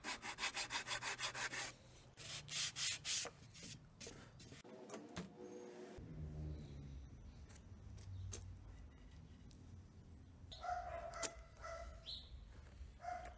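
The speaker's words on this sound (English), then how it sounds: "I used the cut marks with the file and sandpaper." A file and sandpaper rubbing over wooden roof shingles for a doghouse build, rhythmic back-and-forth scraping strokes, close and fairly quiet, alternating with pauses and short rasps.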